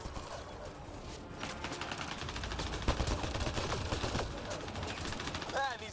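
Rapid gunfire from a shooter battle in Mass Effect: Andromeda rattles out in dense bursts of sharp cracks over a busy game soundscape, with a high synthetic chirp near the end.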